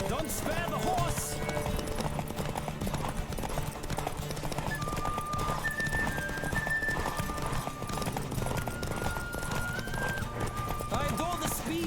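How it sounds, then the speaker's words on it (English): Rhythmic hoofbeats of a galloping horse in The Witcher 3 video game run steadily throughout, layered with a busy background score and a voice talking over them. "Don't spare the horse."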